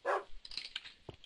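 A dog in a Minecraft game gives a single short bark followed by quieter yips and small game noises, close and brief, with no talking.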